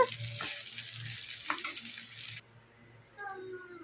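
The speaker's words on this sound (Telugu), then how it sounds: "ఇదంతా కలుపుకుందాం. కలుపుతున్నాను ఇక్కడ రైసు." Potato rice being stirred and mixed in a hot pan, with a steady sizzle and spoon scrapes for about two and a half seconds before the frying sound cuts off, leaving quieter kitchen noise.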